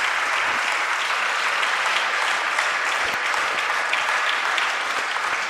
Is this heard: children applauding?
yes